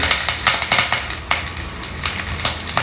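Cumin seeds, hing and a split green chili crackle and sizzle in hot oil with mustard seeds and urad dal, a dense close spatter of sharp pops throughout, alone with no voices.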